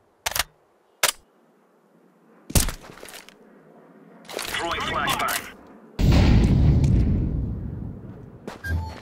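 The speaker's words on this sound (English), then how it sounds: "Flashbang." A flashbang grenade detonates in Counter-Strike 2, with sharp gunfire cracks early on, then a rising burst and a loud, sustained ringing blast that fills the last few seconds.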